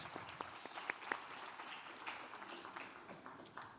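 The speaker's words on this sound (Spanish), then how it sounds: "Y un aplauso a Lirio también" Applause for a university student in an international relations honors program, rising from a quiet audience at an ambassadors' panel discussion, soft and somewhat distant, with scattered individual claps standing out.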